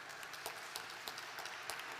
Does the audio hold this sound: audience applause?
yes